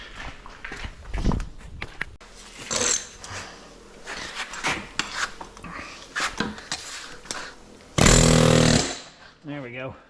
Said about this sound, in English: I need my air chisel.